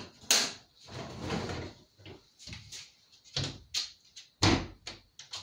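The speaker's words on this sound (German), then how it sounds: "Tür hat sich verzogen. Klar, geht nicht mehr zu." A warped door is worked open and shut repeatedly, with scraping drags, rattles and several sharp knocks and bangs as it sticks in its frame, close and loud with short pauses between.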